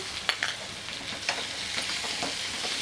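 A ginger, garlic, green chili and cumin paste frying with onions in a pan, a steady bright sizzle with occasional stirring scrapes and soft taps, close and alone.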